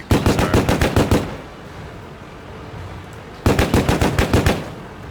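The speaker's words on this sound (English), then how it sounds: "It's a, what, like a 30 caliber machine gun?" Machine-gun fire in the tank game World of Tanks, two loud close bursts of about ten rapid rounds each, separated by a quiet gap of a couple of seconds.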